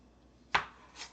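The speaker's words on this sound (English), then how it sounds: "So I'm chopping up tomatoes, onions, bell peppers." A single knife chop through tomatoes, onions or bell peppers lands on a cutting board as one sharp, close knock. A fainter second tap follows about half a second later in an otherwise quiet kitchen.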